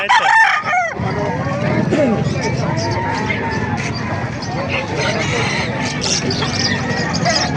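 A rooster crows loudly at the start, then a crowd of chickens, including bantams, clucks and crows continuously in a busy, noisy mix at a chicken market in Calumpit, Bulacan.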